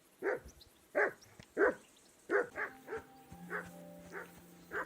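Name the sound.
dog barking in video game Kingdom Come: Deliverance II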